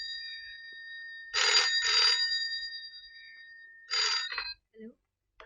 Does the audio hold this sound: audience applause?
no